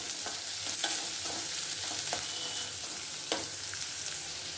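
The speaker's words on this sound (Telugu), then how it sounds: "కొంచెం బాగా వేపుకుందాము. గోల్డెన్ కలర్ వచ్చేంత వరకు వేపుకుందాం." Crushed garlic and curry leaves fry in oil while being stirred for a dal made with sorrel leaves. A soft, steady sizzle runs throughout, broken by repeated scraping stirs, fairly quiet and without speech.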